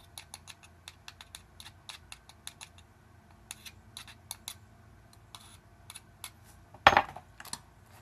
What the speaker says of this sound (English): I'm going to take my scraper and I'm going to mix it